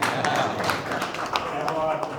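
Audience at a Hindi spring poetry gathering clapping, a steady patter of many hands at moderate distance with faint voices mixed in.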